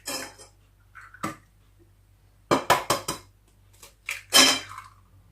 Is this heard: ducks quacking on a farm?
no